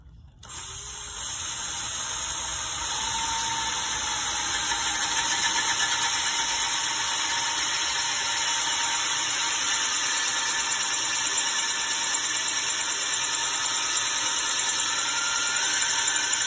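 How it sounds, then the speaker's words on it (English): A power drill whirs continuously while drilling a hole in a flowerpot smoker, starting up and holding a steady high-pitched whine throughout, close and loud with no talking. "So let's drill that hole"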